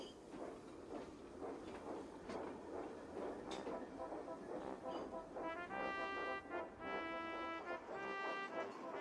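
A steam engine puffs slowly along a steep mountain railway, giving a steady rumbling chuff, then a loud harmonic whistle-like tone sounds in the last few seconds.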